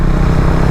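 A motorcycle engine freshly rebuilt runs loud and close in a brief, steady burst of low rumbling idle.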